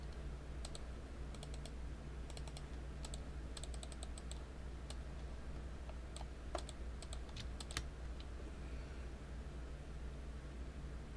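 Clicks from typing on a computer keyboard, clusters of quick, light keystrokes in irregular bursts over a low steady hum, quiet and close.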